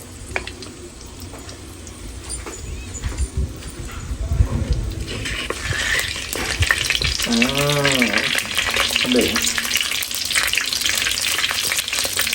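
Curry leaves crackle and sizzle as they fry in hot oil in a clay pot for a fish curry, a steady close sputter with sharper pops that builds in intensity, with some background kitchen noise.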